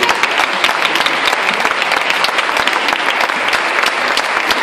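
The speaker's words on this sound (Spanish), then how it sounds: "Por favor, un aplauso." Audience applause at a municipal ballet school show in Gáldar, a dense, steady burst of clapping from many hands filling the hall for several seconds.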